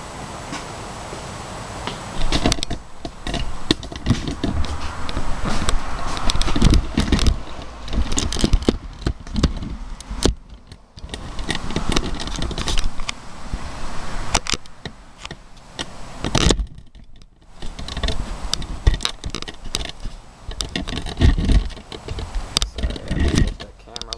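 A small Craftsman, Troy-Bilt, Homelite or Ryobi type engine is pulled and sputters into a ticking, uneven run after a starter assist spring repair, with brief pauses between pulls and someone talking throughout.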